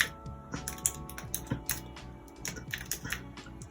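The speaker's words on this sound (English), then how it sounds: "I'm going to do a bit of typing here." Rapid typing on a computer keyboard with long acrylic nails, a close, uneven patter of sharp clicking keystrokes with no talking.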